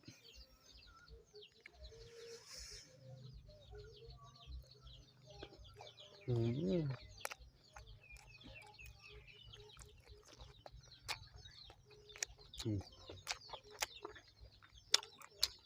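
Chickens cluck and chirp softly in a vegetable garden in the early evening, with scattered short calls and one louder cackle amid faint background birds and quiet outdoor ambience.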